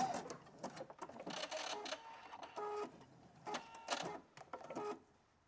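A sewing machine runs a zigzag stitch on swimsuit fabric, close and fairly quiet, in several short bursts of rapid mechanical clatter separated by brief pauses.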